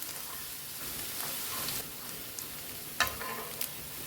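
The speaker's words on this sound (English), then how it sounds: "I'll add in the garlic. Keep the heat low and toss it around" Garlic sautéing in extra virgin olive oil in a pan on low heat, a soft, steady sizzle with a few small pops and stirring taps, quiet and close, with no talk.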